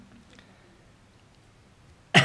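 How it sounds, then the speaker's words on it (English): A single short, sharp cough bursts out at the very end after near silence, loud and close. "I have a bit of a cough"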